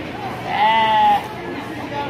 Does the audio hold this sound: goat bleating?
yes